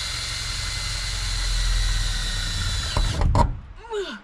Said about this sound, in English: Right now we're putting a pilot hole.